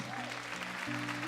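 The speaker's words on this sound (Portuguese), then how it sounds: "Quantos podem aplaudir ao Senhor?" A church congregation applauding, a dense wash of clapping heard quietly behind a voice and sustained tones for just over a second.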